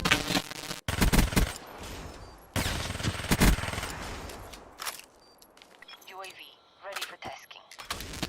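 Vesper submachine gun in Call of Duty: Black Ops 3 fires rapid full-auto bursts, loud and close, broken by short gaps and trailing off into quieter game sounds.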